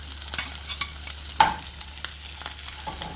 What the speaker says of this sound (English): I'm gonna go ahead now and toss in my garlic, my minced garlic